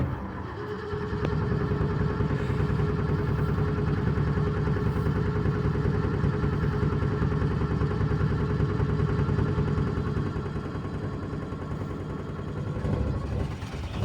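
A Ford Shorty van's engine, abandoned for 12 years, cranks and catches around the one-second mark, then settles into a steady, loud, close-up idle with a constant low hum that runs alone until it fades near the end.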